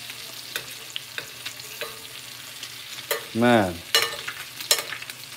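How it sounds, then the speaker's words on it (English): Chilean seabass basted with butter in a hot pan, a loud continuous sizzle with a rising burst of spattering as the butter is spooned over, plus occasional clinks of the spoon; a short spoken word is heard. "now I'm just gonna baste this fish, just like that"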